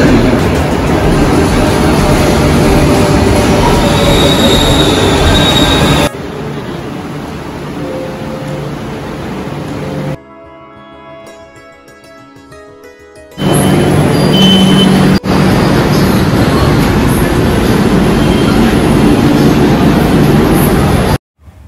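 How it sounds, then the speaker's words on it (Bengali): A Kolkata Metro Blue Line train bound for Dakshineswar pulls into an underground station with a loud, roaring rumble. A quieter stretch with tonal ringing follows before the heavy noise resumes. "স্টেশনে পৌঁছানোর ঠিক 5 মিনিটের মধ্যেই আমরা মেট্রো পেয়ে গেলাম"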